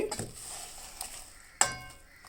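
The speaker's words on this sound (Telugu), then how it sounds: "బాగా అట్టు చక్కగా నున్నగా వచ్చేటట్టుగా కలుపుకోవాలి" Jaggery dosa batter being stirred in a bowl, with soft scraping strokes and a sharper clink near the end, close and fairly quiet, with no talking.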